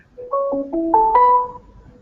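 A phone ringtone plays a short rising electronic melody of about five clear, bright tones stepping upward over two seconds, loud and alone, then fading.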